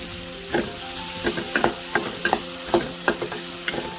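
Chopped onions and green chillies fry in hot tempering oil for a prawn and ridge gourd curry, a steady sizzle broken by repeated rhythmic scrapes of a spatula stirring in the pan, close and clear, without voices.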